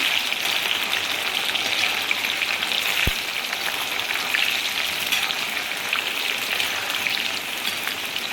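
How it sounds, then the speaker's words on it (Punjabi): Bitter gourds (karela) frying in hot oil while being stirred, giving a steady, close, dense sizzle that holds evenly throughout with one sharp clink of the utensil partway through. "ਹੁਣ ਆਪਾਂ ਤੇਲ ਦੇ ਵਿੱਚ ਪਾਣੇ ਆ ਕਰੇਲੇ ਇਸ ਤਰ੍ਹਾਂ ਆਪਾਂ ਹਿਲਾ ਦਾਂਗੇ ਕਰੇਲਿਆਂ ਨੂੰ"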